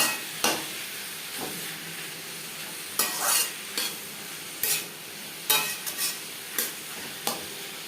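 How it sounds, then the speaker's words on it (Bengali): Snake gourd tossed with turmeric and burnt coconut in a pan, a spatula scraping in sharp intermittent strokes over a low steady sizzle, with no voices. "এভাবে নাড়াচাড়া করে ড্রাই করে নেব"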